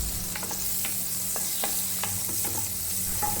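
Butter melting in a preheated pan while cooking a jackfruit and banana dish sizzles with a steady broadband hiss, broken by small crackles and the occasional scrape of stirring, with no voices.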